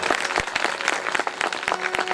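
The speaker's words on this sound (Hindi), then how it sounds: "हमारे नारायणानंद सरस्वती जी महाराज के लिए जोरदार तालियां।" An audience at a Shiva devotional discourse breaks into loud applause, a thick crackle of many hands with sharper individual claps standing out, filling the space without any speech over it.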